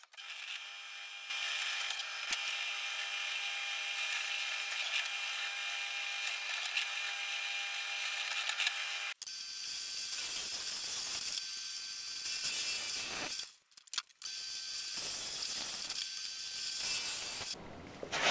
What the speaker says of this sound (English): Now I can just drill my holes.